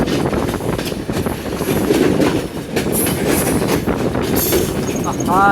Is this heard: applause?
no